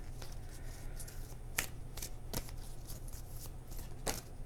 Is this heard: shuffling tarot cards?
yes